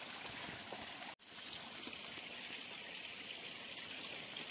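Water at the Bahubali waterfall in Chaibasa, Jharkhand flows in a steady, faint hiss with a brief drop-out about a second in, and nothing else is heard.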